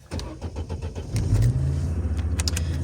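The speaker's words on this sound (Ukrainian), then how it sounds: "Зараз прогріваю машинку і їду." A car engine idles steadily while warming up, a close, continuous low rumble that swells slightly partway through, with a few faint clicks and knocks over it and no talking.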